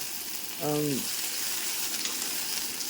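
Okra sautéing in oil for a curry: a constant airy, steady sizzle with a brief tonal squeak or voice-like sound near the start, otherwise even and unbroken.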